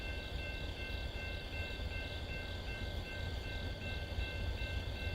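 A train led by a Dash 8 locomotive gives a faint, steady engine drone with a sustained high tonal whine, heard from some distance throughout.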